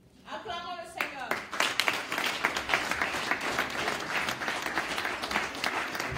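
A church congregation at a Swiss prayer convention bursts into loud sustained applause after a brief spoken line, dense clapping swelling and continuing steadily throughout, with voices and cheers mixed into the crowd noise.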